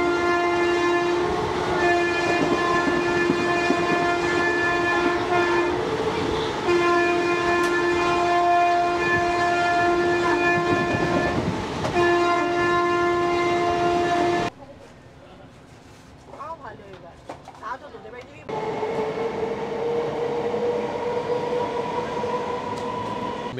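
A train runs on the Sealdah to Madhupur line, loud onboard rumble with sustained horn tones, a sudden drop to a quieter stretch, then steady running resumes.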